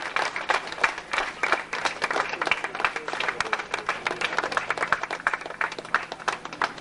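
An audience at a temple Brahmakalasha festival gathering claps steadily to welcome guests to the stage, a sustained wash of applause throughout.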